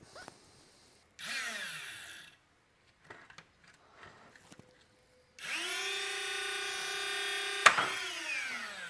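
A broken Nerf Stryfe blaster, rebuilt and run on a LiPo battery, spins up its flywheel motors in two rising whines, the second long and loud with a sharp snap as a dart fires.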